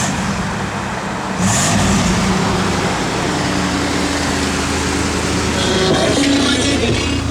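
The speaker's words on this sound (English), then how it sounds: "I think that's called 2-in-1 exhaust" A 1985 Chevrolet Camaro Z28 engine idles through a 2-in-1 exhaust, a loud, steady low rumble that continues without break for several seconds.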